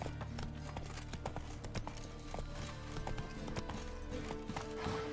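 Roach, the horse in The Witcher 3, trotting with a quick, steady clip-clop of hooves over a dense game soundscape. A brief whinny may rise once. The steps stay fairly faint throughout.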